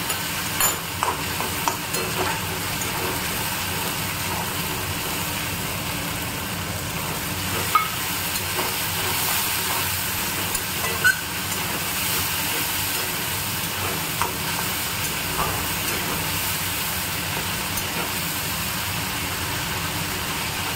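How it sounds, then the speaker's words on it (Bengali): Spices and mung dal dhoka sauté in a pan over lowered heat, a constant soft sizzle with occasional stirring clicks and scrapes, close and steady throughout. "একটু কমিয়ে নিয়ে কষাই, তাহলে মশলাটা পুড়ে যাবে না"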